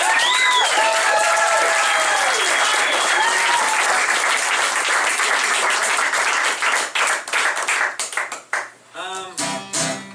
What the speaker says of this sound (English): Let's give a round of applause for all the